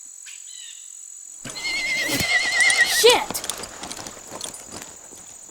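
A spooked horse lets out a loud shrill neigh, and hooves clatter and scuffle around it after a quiet start; a man swears over the commotion.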